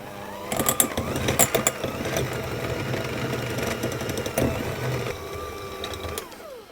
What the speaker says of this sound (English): I have my mascarpone here, which I'm just going to whisk with my hand mixer